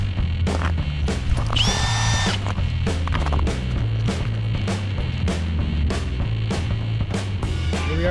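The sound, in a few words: ice auger drilling holes through lake ice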